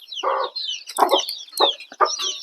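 Hens and small chicks cluck in short, close bursts while pecking at agathi leaves on a farm, four distinct clucking calls spaced about half a second apart over thin high peeping from the chicks.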